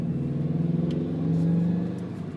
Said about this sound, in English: Back into 1st gear, accelerate a bit. 2nd gear.